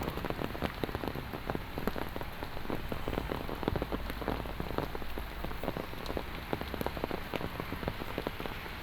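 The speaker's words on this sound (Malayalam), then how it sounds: "രാവിലെ അതിൻ്റെ തുടർച്ചയായിട്ട് പെയ്യുന്ന ചെറിയ ചാറ്റൽ മഴ, പിന്നെ അത് നല്ല രീതിയിൽ കൂടുന്നുണ്ട്" Steady rain falling on hard surfaces during an early-morning walk on a hospital campus, a dense continuous hiss with many close, sharp drops pattering throughout, without voices.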